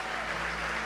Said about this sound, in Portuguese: Vamos aplaudir a Deus pela vida dos pastores.